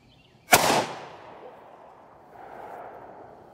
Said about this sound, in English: Okay, I'm gonna try to shoot that with this thing.